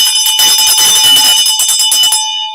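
A single bright bell rings out loud and clear, its shimmering metallic tone sustaining and slowly fading away, alone without any voices.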